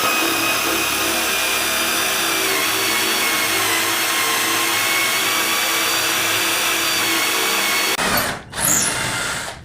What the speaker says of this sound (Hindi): वुड में ड्रिल करने के लिए यहां पे मैं ले रहा हूं 6 mm की ड्रिल बिट।